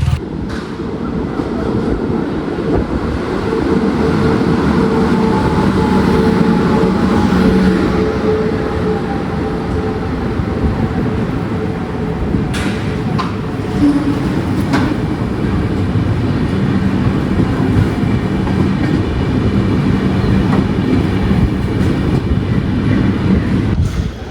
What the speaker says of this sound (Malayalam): Ernakulam Barauni junction Raptisagar express വരുന്നുണ്ടേ.